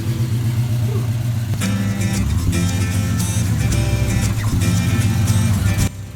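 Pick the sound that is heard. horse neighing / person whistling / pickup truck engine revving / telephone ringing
pickup truck engine revving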